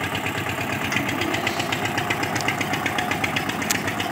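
Eicher 242 single-cylinder diesel tractor, a 1999 model, idling steadily nearby with a continuous low rumble and rapid rhythmic engine pulses, no talking.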